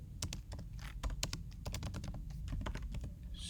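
Rapid, uneven keystrokes on a computer keyboard, close and steady for a few seconds while code is written in a Flutter tutorial, with no voice over the clatter.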